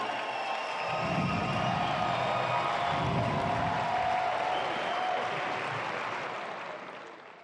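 A large arena crowd applauds and cheers the winner of a Tie Break Tens tennis event in Dubai, a steady roar of clapping that swells, holds for several seconds and then fades.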